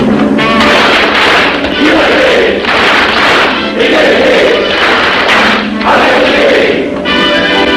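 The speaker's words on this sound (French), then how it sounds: "À moi, mes frères, par le signe, la triple batterie et l'acclamation." A Masonic lodge gathering gives its triple battery of claps and a loud collective acclamation, a dense roar of many voices and hand strikes filling the room.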